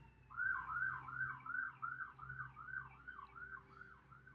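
A distant siren in a city wails in a repeating rising-falling pattern, fairly faint and steady throughout.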